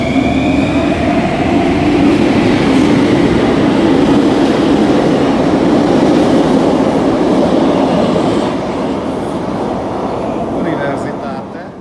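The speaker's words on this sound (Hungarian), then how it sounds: "Egy távozó metrót itt ezen a szélesebb állomáson felveszünk." A Bucharest metro train pulls out of a wide station, its wheels clattering and a rising electric whine drawing away, loud and close before easing off near the end.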